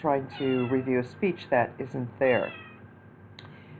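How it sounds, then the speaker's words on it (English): A cat meows several times in quick succession during the first two and a half seconds, loud and close, with a person speaking around the meows. "And that's my cat meowing in the background."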